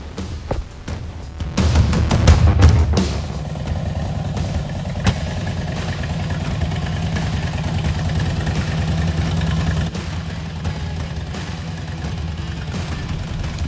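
A 2006 Harley-Davidson Electra Glide motorcycle engine rumbles steadily at idle after a brief burst of revving and clattering at the start, close and continuous.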